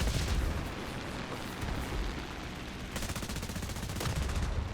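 Rapid bursts of 7.62 mm wing-mounted machine gun fire from a Russian I-16 Type 10 fighter in War Thunder, dense rattling fire that runs almost without pause over a loud engine drone.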